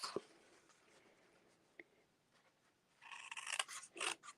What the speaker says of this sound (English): paper snips, and I'm just going to actually cut off those ones in between the score lines